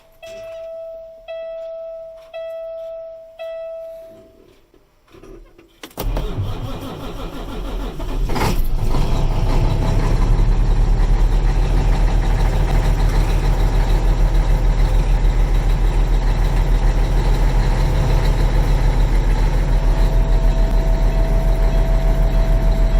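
A 2007 Peterbilt 357 dump truck with nearly 17,000 hours begins with ignition chimes and clicks, then cranks, catches and settles into a loud, steady diesel idle rumble close by.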